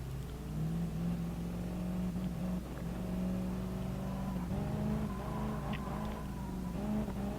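Race car engine in the racing video game Gran Turismo Sport, a steady loud harmonic drone that shifts pitch slightly as it holds, rising and settling while waiting for a rolling start, with no talk over it.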